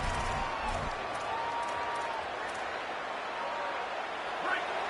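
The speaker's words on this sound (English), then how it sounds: "Listen to the crowd energy here in the early going." Stadium crowd noise in a college football video game, a steady loud wash of roaring fans with scattered whoops, filling the whole stretch without a break.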